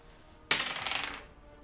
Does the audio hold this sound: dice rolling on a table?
yes